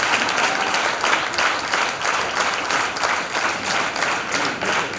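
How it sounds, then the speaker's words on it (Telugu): A large audience in a hall claps loudly for a speaker at a talk on child marriage, a thick sustained roar of many hands with rhythmic swells, close and continuous without talk. "ఒకసారి క్లాప్స్ తోటి సార్కి."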